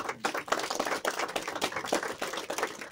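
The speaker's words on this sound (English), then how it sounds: "Commander Thompson, a big round of applause, please." Audience applause for Commander Thompson, a WW2 veteran, at a Legion of Honour presentation: a steady patter of many hands clapping at moderate volume, sustained for a few seconds with no voices over it.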